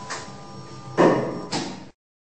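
Elevator doors sliding closed in a Roblox game, a short mechanical whoosh followed by two quick thuds as the panels meet, close and clear before abrupt silence.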